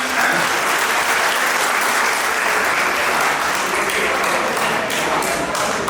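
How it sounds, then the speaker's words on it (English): Parents at a school's annual prize distribution ceremony applaud the children, a loud, full, unbroken roar of clapping from a large audience that stays even throughout. "Parents, please give a big round of applause for all the children."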